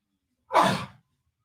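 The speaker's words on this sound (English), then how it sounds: "I had to sneeze." A single short sneeze from a man, close and fairly loud, a breathy burst lasting about half a second and then silence.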